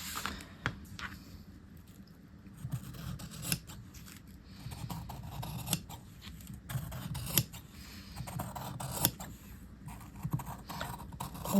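Fabric snipped with scissors on a cutting mat while preparing interfacing and lining for a half-scale tailored jacket, steady repeated crisp blade snips, close and clear, with no talking.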